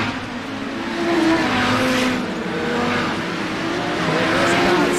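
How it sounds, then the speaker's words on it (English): Race cars in the Moist 400 lapping a circuit while one slides sideways, a steady loud engine drone with rising and falling tire squeal, under faint commentary. "Another car going sideways is squaring off."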